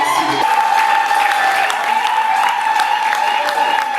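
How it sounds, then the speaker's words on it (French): Applause at a wedding celebration honouring the bride's father, steady and dense throughout with a sustained tone running underneath. "Un honneur d'applaudissements"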